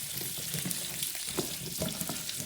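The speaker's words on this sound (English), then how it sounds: "Stir them up good." Apples frying in a pan while being stirred, a steady close sizzle with soft scraping and stirring strokes running throughout.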